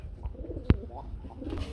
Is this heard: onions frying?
no